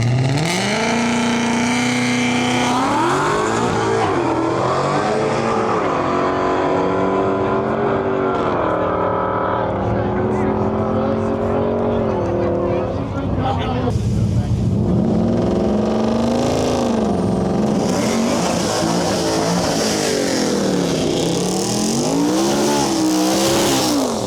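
Drag race cars, a nitrous Mustang and a Rubicon on BFG all-terrain tires, roar down the track with loud revving engines rising and falling through gear changes, continuous and close throughout.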